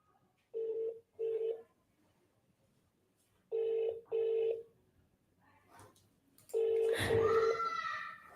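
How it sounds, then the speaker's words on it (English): A telephone ringback tone sounds over a call line, three paired bursts of buzzing rings spaced a couple of seconds apart, fairly faint, with a brief muffled voice and noise toward the end. "This number is ringing."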